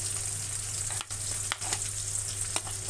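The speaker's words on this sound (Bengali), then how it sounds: "এখন পেঁয়াজের সাথে দিয়ে দিচ্ছে টমেটো" Tomato frying with onion in a pan makes a loud, continuous close sizzle with brief stirring scrapes, running the whole short stretch without any talk.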